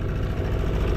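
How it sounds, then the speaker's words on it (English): A boat's outboard motor runs steadily at close range in tidal ocean waters off Bali, a continuous low engine drone with no other sound over it. "Got my outboard back."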